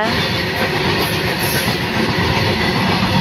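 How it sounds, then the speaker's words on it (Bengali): A train rolls past along the railway track nearby, its loud continuous rumble and wheel clatter filling the whole short moment with no one speaking. "দেখুন এই যে ট্রেনটাও চলে গেল।"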